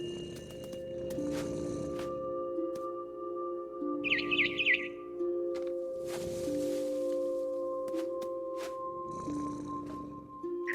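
A brief burst of high, rapid swallow chirps in the video game What Remains of Edith Finch rises over a quiet electronic hum and soft musical tones, heard once near the middle.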